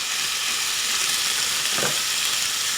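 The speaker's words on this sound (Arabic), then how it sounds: "نجيب واحد الخشبه باش نحرك بشويه" Pasta in white sauce bubbles and sizzles loudly in a pot on the stove, with a brief scrape partway through as a wooden spoon stirs it close up, no voices.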